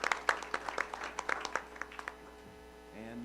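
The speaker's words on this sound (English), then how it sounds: "if we can give a round of applause for all of our marching band students" Applause at a Board of Education meeting for the marching band students: scattered, fairly faint individual claps that thin out and fade after about two seconds, in a quiet hall with a low hum.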